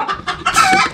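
A backyard chicken clucking loudly at close range, a rapid series of sharp clucks rising into a longer squawking call, with no talking over it.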